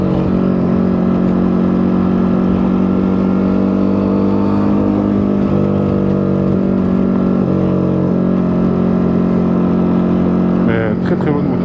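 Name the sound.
Ducati Monster 937 twin-cylinder motorcycle engine riding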